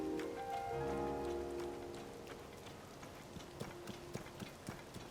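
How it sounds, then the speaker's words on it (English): Steady rain patters down in Zelda near Hateno, a soft wash of drops with scattered sharper hits, alongside rhythmic clip-clop footsteps and a lingering musical tone. "Now it's raining, so that's a problem."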